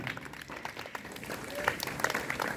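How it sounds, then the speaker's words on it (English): Students clap their hands at a school morning assembly, a soft, distant patter of scattered applause that continues steadily throughout the short stretch. "Are you clapping hands or just listening other sound?"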